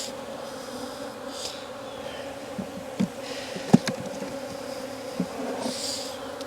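Honey bees swarm and buzz steadily around an open hive in Jacksonville, Florida, a dense close drone with a few brief bumps and clicks from handling the frames, and no talking.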